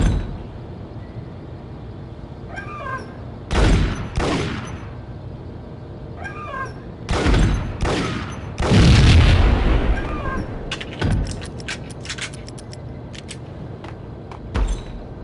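Gunfire from a Max Payne game on PlayStation 2, loud broadband shots in several spaced bursts over a muffled in-game background, with no talking.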